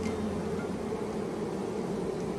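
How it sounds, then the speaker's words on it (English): Dense buzzing of a swarm of bees clustered in and around a hive box, a steady close-up hum with constant level throughout and no voices. "There's a lot of bees."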